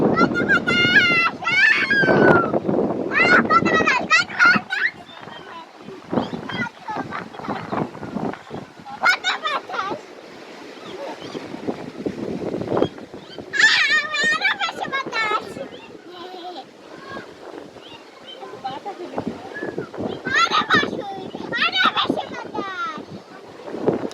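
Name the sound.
strong wind outdoors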